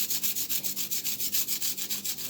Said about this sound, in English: I'm gonna add some grated onion.